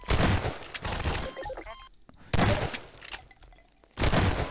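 Gunfire in the Half-Life 2 mod The Citizen, a video game: loud dense bursts of weapon fire in two heavy stretches separated by a brief lull, with game effects mixed in.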